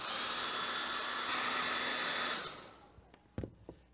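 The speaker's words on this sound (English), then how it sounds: "I'm going to use the hair dryer for a second." A hair dryer blows with a steady, loud whirring roar for a couple of seconds, then switches off, followed by a few soft clicks and taps.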